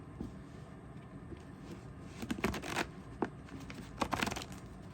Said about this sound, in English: I was doing such a good job shuffling